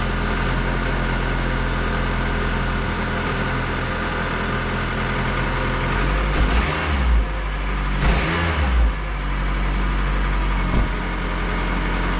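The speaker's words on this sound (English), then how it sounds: "Didn't want to cold rev it like too much, just gave it a little tap just to make sure that everything's working good." A Honda car engine, cold and just brought back to running, idles steadily with a low rumble, then gets two short light revs in the second half, each rising and falling quickly before settling back to idle.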